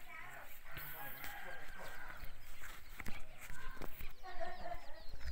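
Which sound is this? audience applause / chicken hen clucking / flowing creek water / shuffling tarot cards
chicken hen clucking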